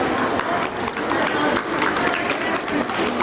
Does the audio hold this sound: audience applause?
yes